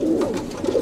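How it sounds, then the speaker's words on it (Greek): Pigeons kept in a loft make soft, low, rolling coos close by, loud and without talk. "Και εδώ βλέπουμε τώρα τα περιστέρια"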